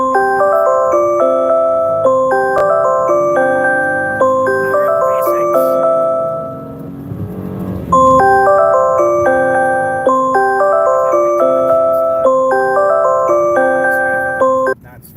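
An electronic alarm repeats a loud, fast looping pattern of beeping tones that briefly drops away in the middle before starting again and carrying on to the end.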